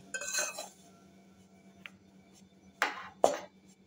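Ghee-softened dates are mixed into wheat-flour dough for modak in a bowl. A spoon gives a few quiet scrapes and several sharp clinks against the bowl, spaced apart.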